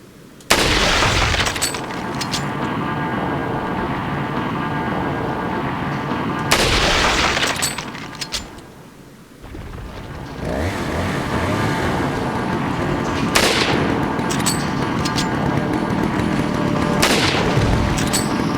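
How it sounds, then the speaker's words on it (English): Rifle shots and grenade explosions sound out in a battle, with several sharp, loud bursts at irregular intervals over a continuous rumbling din. "we're going to hit him with a rifle, and then maybe we'll throw a couple grenades"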